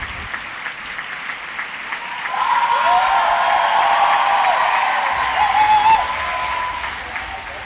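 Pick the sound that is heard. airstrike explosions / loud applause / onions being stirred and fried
loud applause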